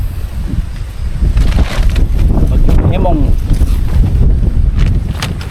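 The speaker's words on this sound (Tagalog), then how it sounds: "oh lakas ng hangin" Strong wind roaring and buffeting against the microphone in loud, steady gusts, with a faint voice briefly audible beneath the rumble.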